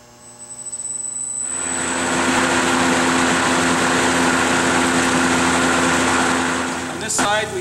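A Redball hooded sprayer fitted with AI XR tips runs steadily: a loud, broad, continuous hiss builds from a quieter start with an engine drone beneath, holding evenly for several seconds before tapering at the end.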